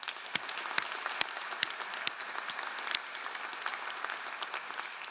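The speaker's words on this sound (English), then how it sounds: "another round of applause for them." Scattered, fairly faint applause at an MBA commencement ceremony, a thin round of individual sharp claps in the hall without any talk.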